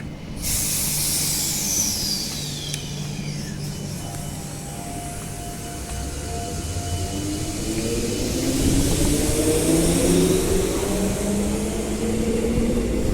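A Victoria Park shuttle train passes at a station with a long hissing rush of air and rolling noise. Rising and falling tonal whines come from the moving train, and the sound swells louder toward the end with no voices.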